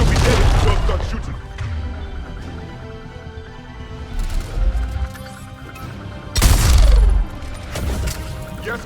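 Gunfire and explosions in the video game Mass Effect 3, loud booming bursts hitting at intervals over a busy battle mix, with characters talking between the shots.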